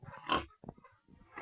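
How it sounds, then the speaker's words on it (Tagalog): Pigs on a farm give several short grunting oinks and snorts in irregular bursts, close by and fairly quiet, with brief gaps between calls. "So may mga baboy din siya dito."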